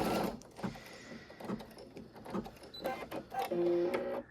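A computerized embroidery machine stitching fabric for a mug rug, a busy mechanical whirring and rapid needle chatter with shifting tones, close and steady throughout.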